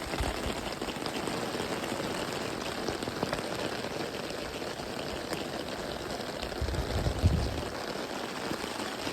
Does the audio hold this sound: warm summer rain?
yes